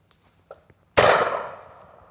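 A single sharp blast from a Miroku MK11 Game shotgun fired at clay targets, loud and close, preceded by faint small clicks and trailing off in a decaying echo.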